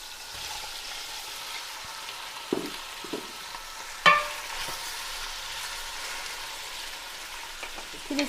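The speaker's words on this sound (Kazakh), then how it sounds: "Пиязымыз қуырылып жатыр." Onions sizzle and fry steadily in a pan for maqluba, a broad, even crackle with a few sharper clicks of stirring utensils against the pan, no talk.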